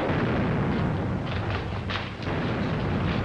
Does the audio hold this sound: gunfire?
yes